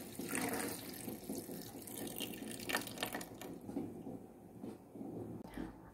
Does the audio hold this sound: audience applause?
no